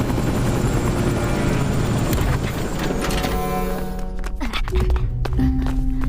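A cartoon helicopter whirs loudly and close with a steady rotor drone, which winds down and breaks up into clunks and thuds toward the end.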